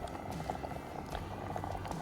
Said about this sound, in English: Our water has boiled.